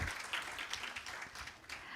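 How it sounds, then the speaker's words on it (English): An audience at a public policy dialogue applauds the panelists, a faint, steady patter of many hands clapping at a distance, with no speech over it. "please give a huge round of applause for all the panelists"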